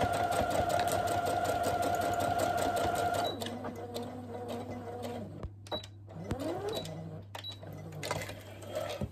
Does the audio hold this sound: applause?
no